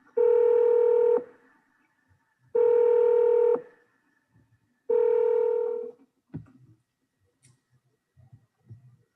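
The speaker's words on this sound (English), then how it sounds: "We just heard a little bit dial tone" Three long, steady electronic telephone tones about a second each, evenly spaced, followed by a few faint clicks and soft noises.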